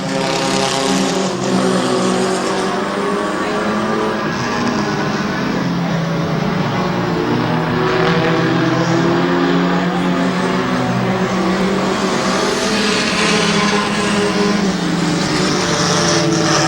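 Race cars roar around the track at Twin State Speedway in Claremont, New Hampshire, with a loud, continuous engine drone that rises and falls as the pack passes, steady and close throughout.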